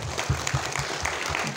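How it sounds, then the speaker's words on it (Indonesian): A group applauds at a children's Quran memorisation event, a short burst of quick, fairly loud clapping filling the moment, with no talk over it. "Tepuk tangan coba guys"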